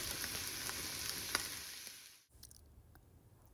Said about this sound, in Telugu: ఇంకొక 2 నిమిషాలు వేయించుకుంటే సరిపోతుంది.